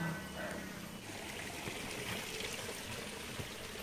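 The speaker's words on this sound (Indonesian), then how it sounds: "Pancuran ya ini." Water pours steadily from a spout in a cool, quiet village setting, a continuous close trickle and splash with no voices over it.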